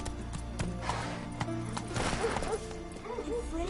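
Roach, Geralt's horse in The Witcher 3, gallops in a steady clip-clop of hooves with a brief whinny, all beneath ongoing game music and background speech.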